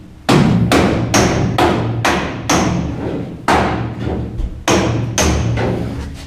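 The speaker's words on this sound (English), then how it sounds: "Yep, just put the shrinking tool on." Metal shrinking tool striking the steel body panel of a BMW 2002 Touring under restoration, about ten loud, sharp thuds and clanks in an uneven rhythm, each ringing briefly, heard close up.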